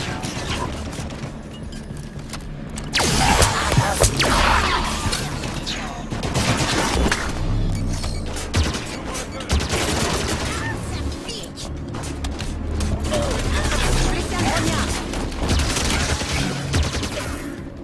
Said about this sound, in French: J'ai le fusil Storm.